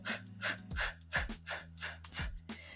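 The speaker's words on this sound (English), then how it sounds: "You're going to pump your arms and inhale, short inhales for 5, and then 5 short exhales." During Pilates arm pumps, short sharp breaths come in a steady, even rhythm, each puff close and clear over soft sustained background music.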